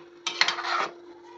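A spoon stirring chapala (koinga) fish curry in a pot, one short scraping and clinking stir lasting about half a second, close and alone over a faint steady hum.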